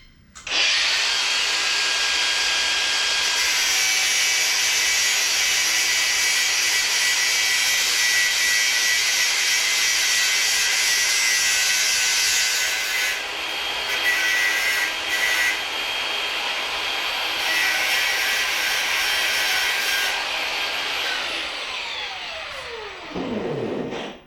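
A power tool grinding the burr off a cut metal edge in a workshop, a loud, steady, high whine lasting over twenty seconds with slight shifts in pitch, then winding down at the end.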